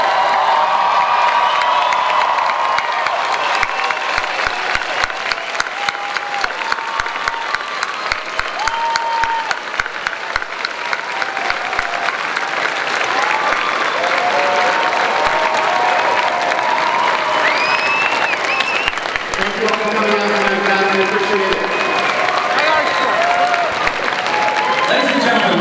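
Sustained applause from a large audience thanking the creators and cast of Showtime's Dexter after eight years, loud and steady throughout with cheers and crowd noise mixed in.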